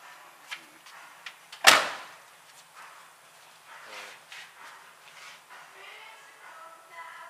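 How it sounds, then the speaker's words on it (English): The door of a 1956 Packard car shuts once with a sharp, solid slam, preceded by small handling clicks and followed by quiet shop sounds and faint voices. "close the door to show we got our door margins"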